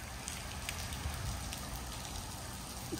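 Rain falls steadily outdoors near a Cybertruck electric pickup, a broad, even hiss with light patter and no speech.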